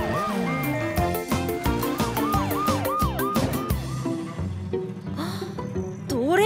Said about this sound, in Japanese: サイレンよろしく